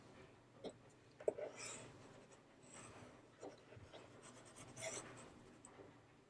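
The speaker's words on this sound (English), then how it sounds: "So I'm going to write that down over here." A pen scratches out numbers on paper in a quiet room, faint and close, with a few short taps and strokes spread across several seconds.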